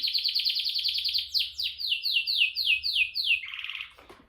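A small bird chirps in quick, repeated bright notes, a rapid trill slowing into a series of sweeping chirps, close and clear.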